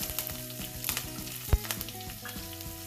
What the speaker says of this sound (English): I'm going to add the hing now. Chilies, curry leaves,